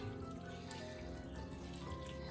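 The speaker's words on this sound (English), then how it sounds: "add some more hot water and pop the lid on" Hot water pouring steadily into a pan of noodles, a continuous close splashing rush with no pauses or voices.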